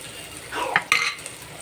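Beef fat added on top of hot oil, giving a brief burst of sizzling mixed with spoon-stirring scrapes and a clack against the pan, no talking.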